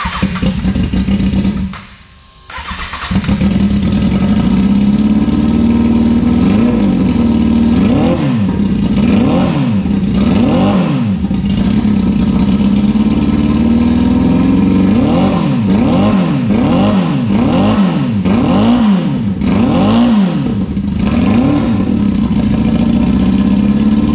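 Halfabusa engine fires up after a brief dropout, then settles into a loud, close idle punctuated by a long series of sharp revs rising and falling in quick succession.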